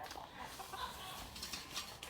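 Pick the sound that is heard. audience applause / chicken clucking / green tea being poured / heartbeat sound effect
chicken clucking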